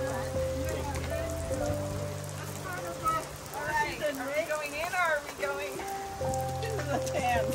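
Steady rain pours down outdoors near a Pleasure-Way Ontour 2.0 camper van, a constant hiss with pattering drops, while music with tonal melodies plays over it and people's voices come through.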